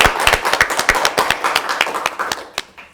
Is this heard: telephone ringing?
no